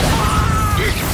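A Bombarda spell blast from the video game Hogwarts Legacy lands as a short, loud burst with a rushing, crackling tail over a dense background of game sound.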